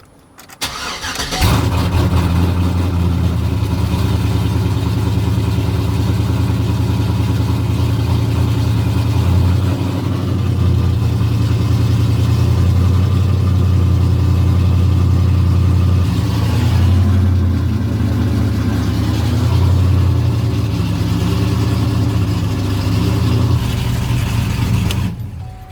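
A car engine with newly installed 2-step launch control starts up and then holds a loud, steady idle with small rises in revs. It runs continuously for about twenty-five seconds with no talking.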